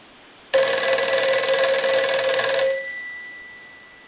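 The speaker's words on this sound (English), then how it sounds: "I want to ring the phone." A Western Electric 302 desk telephone, under repair, rings its bell in one sustained, loud, metallic ring lasting about two seconds, then fades out with a lingering resonant tone, with no talking.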